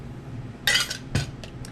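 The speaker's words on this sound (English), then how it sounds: "Let's get all these dishes out of the way." Dishes and cutlery being cleared away in a kitchen during cookie baking, a few quick metallic clinks and clatters, one bright cluster followed by a second and a couple of lighter taps, close and fairly faint.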